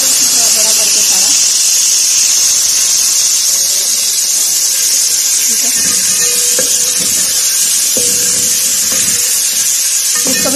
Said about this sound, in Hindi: अब मैं इसको भी फ्राई कर लूँगी, थोड़ा सा ऑयल मैंने और डाला है इसमें।